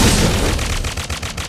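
Rapid gunfire from the character Kimmy shooting in the Mobile Legends video game: a dense, loud run of evenly spaced shots rattling over a low rumble, with no talk.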